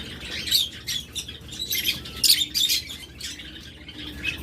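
Budgerigars, among a large caged bird collection, chirp and squawk in quick overlapping bursts close by, high and bright over a low background hum.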